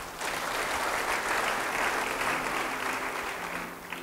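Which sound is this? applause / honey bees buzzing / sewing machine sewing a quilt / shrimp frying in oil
applause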